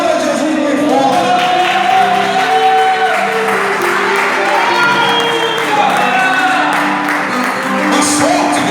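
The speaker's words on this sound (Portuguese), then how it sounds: "Aplauda Jesus bem forte." A church congregation at a Friday-night Portuguese-language evangelical service claps and cheers for Jesus, with shouts and raised voices mixed into continuous, loud crowd noise that stays energetic throughout.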